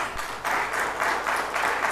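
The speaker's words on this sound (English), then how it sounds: "Please give them a big, warm round of applause." An audience applauds a panel discussion at a conference, steady dense clapping throughout, moderately loud and continuous with no voices on top.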